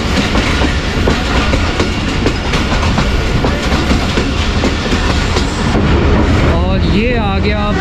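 The Ravi Express, running between Shorkot and Lahore, pulls into Badami Bagh railway station with loud, steady rumbling and rhythmic clatter of wheels on rails, close by, with voices audible over the din.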